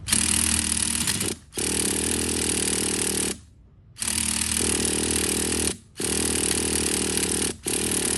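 A vintage Traxxas Nitro Sport RC car's small nitro engine being cranked with a starter, a loud buzzing whir in long sustained runs broken by brief pauses, without catching.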